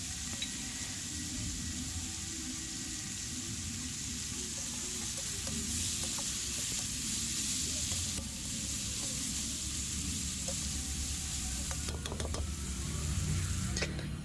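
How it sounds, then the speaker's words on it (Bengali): Kharkol (elephant-foot yam) stalks fry with chilli powder and a little sugar in a pan, a steady close sizzle running unbroken throughout with faint clinks and stirring noises on top. "তো এটা ভাজা হোক"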